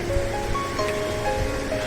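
Excess water discharged daily from the Bhimtal lake dam rushes in a steady, loud wash of flowing water that fills the scene without pause or voices.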